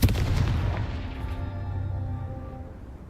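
A Confringo blasting spell goes off in Hogwarts Legacy with one loud, near booming blast that rolls away into a long, fading rumble. No voices are heard.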